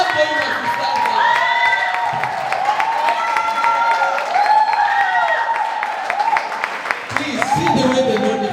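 An audience at a school book fair bursts into sustained applause, dense clapping mixed with cheers and excited voices that carries on steadily without pause.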